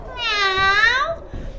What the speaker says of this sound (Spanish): Esa criatura extraña le presentó a su gato Michifús